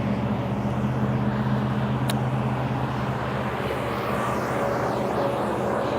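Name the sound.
concrete truck driving by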